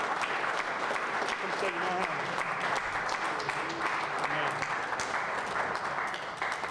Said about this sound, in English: I'd like for you to give him a warm round of applause.